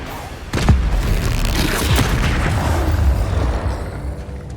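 Spell explosions from Hogwarts Legacy combat: a sudden booming blast near the start, then rolling bursts and rumbles at full loudness, with a voice faintly underneath.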